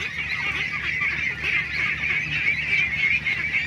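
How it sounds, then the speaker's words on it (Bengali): Large farm-raised ducks calling together in a steady, busy chorus of honking quacks, close and continuous with no talk over it. "দেখেন বড় বড় হয়ে গেছে হাঁস, সব বড় বড় হয়ে গেছে।"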